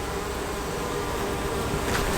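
Honey bees buzz around a beehive while a keeper adds honey supers and syrup, giving a dense, steady, close drone of many wings with no talking.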